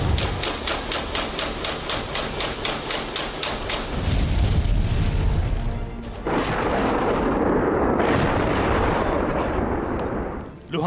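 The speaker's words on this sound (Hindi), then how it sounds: "लुहांस में विध्वंस की दहलाने वाली आवाज, रूह कपा देने वाला एहसास।" Artillery explosions in Luhansk during the Russia-Ukraine war, a run of heavy booming blasts and rumbling impacts, loud and rough, some sharper cracks mixed in, with no talking.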